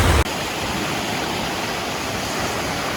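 Waves washing onto a sandy beach at Las Terrenas in the Dominican Republic, water swirling in from both sides; a steady, loud broadband rush of surf with no talk.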